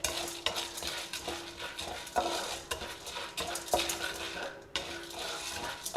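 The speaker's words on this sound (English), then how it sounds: "Just mix it well together for about half a minute." Dry corn kernels stirred with melted butter, oil and salt in a pot for popcorn, a continuous close scraping and rattling with faint sizzling, alone without talk.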